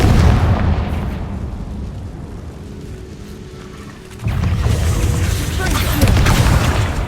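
A Confringo blasting spell from the video game Hogwarts Legacy lands as a loud, deep boom midway through, followed by heavy rumbling under a steady roar of game noise.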